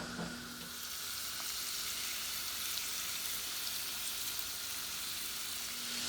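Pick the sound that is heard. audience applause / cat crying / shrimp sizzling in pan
shrimp sizzling in pan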